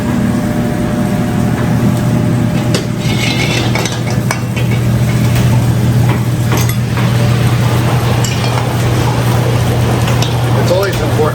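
Vegetables sizzle and crackle in a hot pan with occasional stirring scrapes, while a person talks over the cooking.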